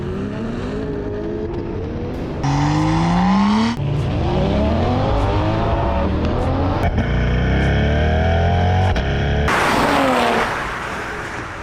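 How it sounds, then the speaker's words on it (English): Stock Toyota Supra and base mid-engine Corvette C8 drag racing, loud engines revving and climbing through repeated gear shifts, with sharp breaks between rising pulls and a final burst of acceleration. "Sam from Car Legion did a drag race between the Supra and the base Corvette."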